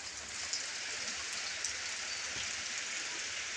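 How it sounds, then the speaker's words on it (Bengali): Light rain falls outdoors while gusty wind blows, making a faint, even hiss of drops with no talking. "এই যে এদিকে বৃষ্টি পড়ছে, দেখো সেই জোরে হাওয়া আসলো আর বৃষ্টি"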